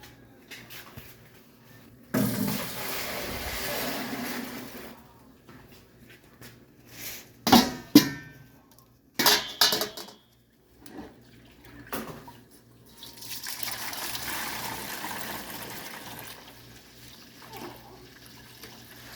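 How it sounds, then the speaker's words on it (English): Whey poured off a mass of cheddar cheese curds, splashing and rushing in two long streams with clunks of handling between them. "Notice in that minute that I was dumping the whey off that mass went into more of a solid mass"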